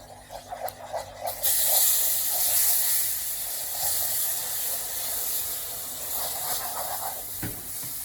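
Syrup is poured into hot roasted flour halva, setting off a sudden loud hissing sizzle. The sizzle follows a few soft scrapes and then continues steadily.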